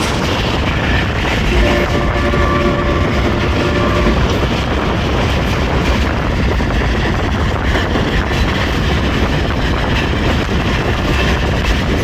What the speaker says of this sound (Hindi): मंदरा से पास थ्रू हुई है हमारी ट्रेन।